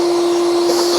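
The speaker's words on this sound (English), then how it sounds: "we got the Gawk 3000 machine, and we're just gonna suck out those bugs and other stuff" A Gawk 3000 shop vacuum sucks bugs and debris out of an abandoned Craftsman lawn tractor, giving a steady, loud, close whooshing roar with a fixed motor whine throughout and no talk.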